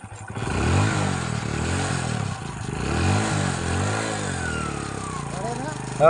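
A motorcycle engine runs close by with a steady, rumbling note that swells and eases as it revs, and voices can be heard faintly alongside it.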